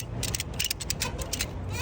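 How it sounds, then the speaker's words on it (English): Ratchet strap being cinched down over a flatbed trailer load, a rapid series of close metallic ratcheting clicks in uneven bursts across the whole moment. "before you cinch the strap all the way down"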